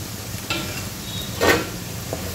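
Dry spices with potatoes and drumsticks sizzle in a pan for a Maharashtrian curry, a soft steady fry broken by a few scraping stirs, one louder scrape in the middle.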